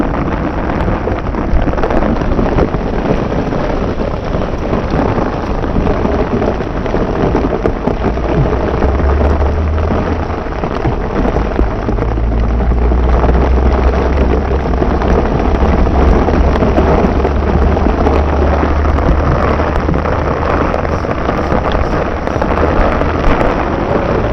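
Heavy rain pours down at night beside a fishing pond, a loud unbroken roar of drops, with low rumbling thuds mixed in.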